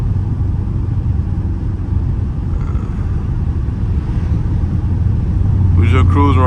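A Dodge Charger cruising on the road, its engine giving a steady low rumble that fills the cabin throughout, with a brief voice near the end.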